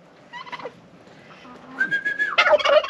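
A domestic male turkey in a backyard poultry yard gobbles in loud, rapid rattling bursts near the end, preceded by a few whistling calls, with no talk over it.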